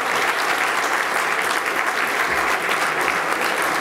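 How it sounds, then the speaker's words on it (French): Audience at the opening of an insurance awards ceremony gives sustained, dense applause, a uniform wash of many hands clapping at constant loudness throughout. "on peut vous applaudir"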